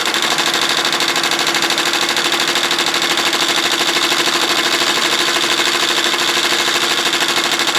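An embroidery machine stitches a custom design onto a graduation stole or sash, a fast, steady mechanical chatter that runs loud and unbroken with no talking.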